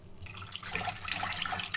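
Tap water runs and splashes over beans being rinsed in a sink, a close, steady watery rush with small bright splatters and no voices.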